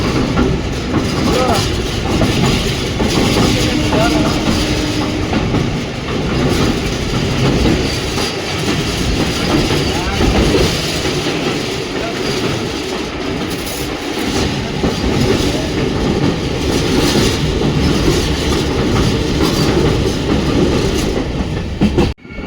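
Riding aboard the Talaguppa–Mysore Intercity Superfast Express with new LHB coaches, a continuous loud rumble of wheels on rails carries rhythmic clickety-clack and occasional squeals, with faint talk underneath.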